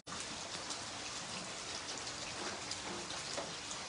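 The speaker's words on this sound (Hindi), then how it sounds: "और सुबह से लगातार बारिश जारी है जम्मू में।" Heavy, steady rain pours down in Jammu, a dense continuous hiss of drops striking surfaces that stays loud and even throughout, with no voices or other sounds.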